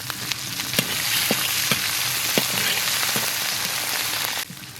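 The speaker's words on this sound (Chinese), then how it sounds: "锅里留点油，下入生姜蒜瓣" Fresh ginger and garlic cloves fry in oil in a wok with a loud, steady sizzle and occasional light taps, close up and with no talking, until the sound cuts out abruptly at the end.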